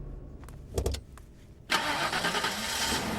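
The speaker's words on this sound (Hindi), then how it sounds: "गाड़ी स्टार्ट कर।" A car engine cranks with a few rapid clicks and starter bursts, then catches and settles into a steady, fairly loud idle.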